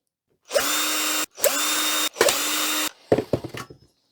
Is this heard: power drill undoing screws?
yes